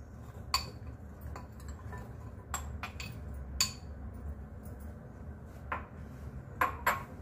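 Cut amla pieces tipped into homemade pickle masala and mixed with a spoon: scattered sharp clinks and taps of metal against a bowl, irregular and close, over a quiet low background hum with no voices.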